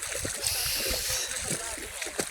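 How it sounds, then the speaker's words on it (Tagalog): Water splashing and sloshing in the sea at a Bicol beach as children swim, a steady broadband wash with repeated splashes close by, and voices talking over it. "Naliligo pa sa dagat."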